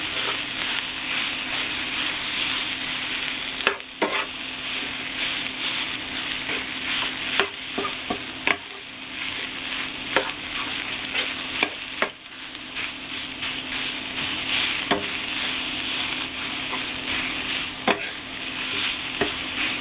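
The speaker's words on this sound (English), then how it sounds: "Now let's break up the sausage." Sausage frying in a dry pan with no oil while a utensil breaks it up: continuous loud close sizzle with intermittent sharp scrapes and taps of the utensil against the pan, no talking.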